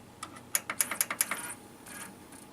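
A Sony CDP-C305 CD changer mechanism makes a quick series of faint, close mechanical clicks and ticks, followed by a softer whirring shuffle.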